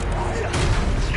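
Confringo fire blast spell in the video game Hogwarts Legacy, a loud, rough burst of fiery explosion noise that swells and holds briefly, with a voice mixed into the blast.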